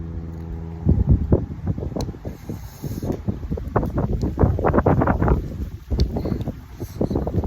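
Gusty cold winter wind in Florida buffets and rumbles against the microphone, rising and falling in uneven bursts throughout.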